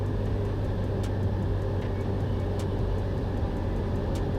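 Steady, loud engine drone and propeller rumble inside the cockpit of a Cessna light aircraft on final approach with 30 degrees of flaps, continuous and unchanging, with faint clicks over it.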